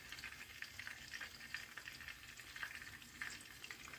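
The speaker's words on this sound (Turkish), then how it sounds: "Artık bütün tavuklarımı yağımın içerisine atarak kızartacağım." Chicken sizzles and crackles steadily in hot oil, a faint continuous frying hiss with small pops throughout.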